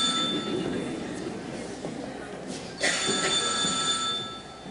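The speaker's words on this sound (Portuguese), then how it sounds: "Telefone!" A telephone rings during a live stage comedy play, its bell tone sounding over a murmuring, noisy theater room, with a sharper burst near the end.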